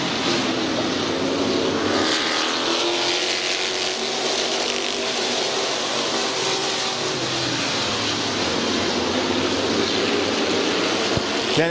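Race cars roar off together at the start of a 25-lap feature at Midvale Speedway, a loud, dense wash of engine noise with pitches sweeping up and down as the pack passes, continuous throughout.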